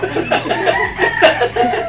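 A chicken clucks in short, close bursts with a brief crowing-like cry, heard over background household noise.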